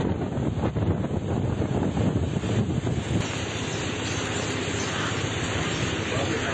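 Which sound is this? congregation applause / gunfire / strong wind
strong wind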